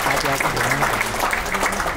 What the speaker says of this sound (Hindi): big round of applause for her